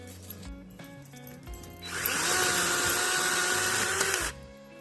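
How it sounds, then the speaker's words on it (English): Electric chainsaw cutting dry wood at a riverside campsite, a steady, loud buzzing whine that runs for about two seconds, following scattered knocks and handling clatter. "That electric chainsaw is so handy to have along."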